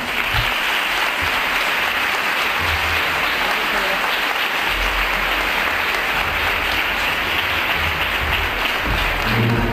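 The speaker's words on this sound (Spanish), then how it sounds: "Vamos a recibir con un aplauso" An audience at the Chipiona carnival poster presentation in Cádiz gives the poster artist a sustained round of applause, with dense, steady clapping filling the whole stretch and no talk over it.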